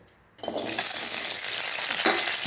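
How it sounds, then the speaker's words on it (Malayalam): Garlic hits hot oil after a brief quiet moment, and a loud, bright sizzle bursts up and holds steady, with a scrape of stirring partway through. "വെളുത്തുള്ളി നന്നായിട്ട് എണ്ണയിൽ വഴറ്റണം."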